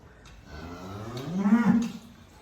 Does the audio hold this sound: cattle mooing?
yes